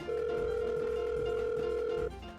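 A steady electronic phone-call tone sounds as one continuous held beep for about two seconds, then cuts off abruptly over a faint background music bed.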